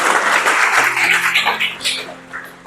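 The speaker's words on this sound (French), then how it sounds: "On les applaudit." A church congregation claps at a dedication service, a dense burst of applause under a voice that fades gradually over a few seconds.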